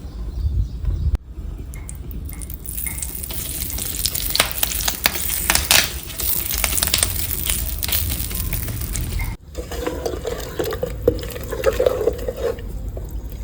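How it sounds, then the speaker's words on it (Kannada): Oil goes onto a hot tava for paddu, hissing and sizzling loudly and steadily up close. A short break comes near the end, then the frying continues more softly. "ತವ ಮೇಲೆ ಎಣ್ಣೆ ಹಾಕೋಣ."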